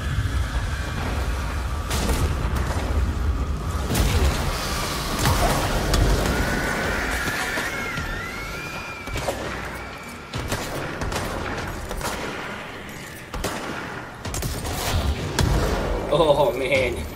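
Explosions and gunfire from the action video game Control: dense, loud bursts and booming impacts packed throughout, with a sweeping electronic tone midway and scattered in-game effects beneath.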